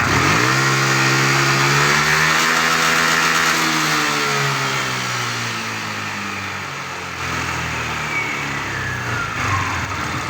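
A tuned automatic scooter's engine revs as the throttle is twisted, close and loud, climbing in pitch, then easing off and holding a steady drone with no talk over it.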